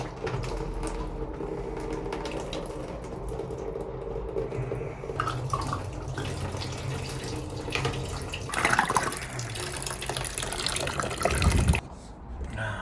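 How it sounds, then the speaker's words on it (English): Water gushes from a plumbing fitting on an apartment fixture after its screen is removed, a continuous splashing rush with a few louder surges near the end before dropping away. "Here comes the water."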